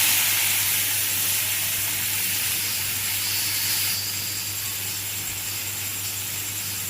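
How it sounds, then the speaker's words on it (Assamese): Panauwa greens sizzle and hiss as they fry in hot oil in a wok, a steady close broadband crackle with a low hum underneath, continuous throughout. "শাকখিনি দিয়ে ধুনীয়াকৈ ভাজি ল'ম"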